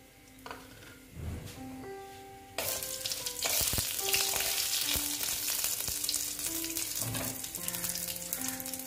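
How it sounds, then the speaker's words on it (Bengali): Bay leaf, a dried red chilli and whole garam masala hit hot oil with a sudden loud sizzle that keeps crackling, broken by clinks of a spoon or spatula against the pan. "এবার আমি ফোড়নে দিয়ে দিচ্ছি তেজপাতা, শুকনো লঙ্কা একটা, আর গোটা গরম মশলা"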